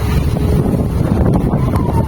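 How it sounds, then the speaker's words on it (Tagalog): Steady wind buffets the microphone outdoors at a solar pump site, a constant low rumble and broadband whoosh, loud and close, with no voices. "Masarap pala ng hangin dito, Amara."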